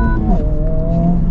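2024 Honda Civic Type R with a 2-liter four-cylinder engine, revving in first gear, a loud, close engine tone that dips then holds steady through a short burst.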